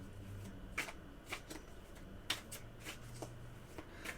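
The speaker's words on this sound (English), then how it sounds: "let's go ahead and shuffle our cards" Tarot cards being shuffled, a series of soft riffling bursts at an uneven rhythm, close and quiet, with no talking.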